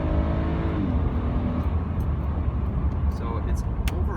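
A 2004-2008 Acura TL accelerating hard, a fairly subdued, smooth engine rise and road roar from inside the car, with a voice talking over it.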